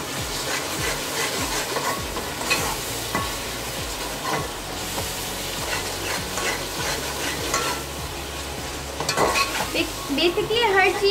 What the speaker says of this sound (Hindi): अदरक लहसुन का पेस्ट डालते हैं और उसको तरीके से भूनूंगी।